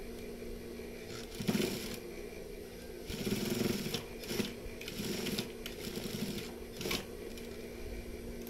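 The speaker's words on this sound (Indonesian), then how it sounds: "Oke, selanjutnya di sini kita akan jahit" A sewing machine stitches a fabric pocket in short bursts of rapid mechanical whirring with pauses in between, over a low steady background hum.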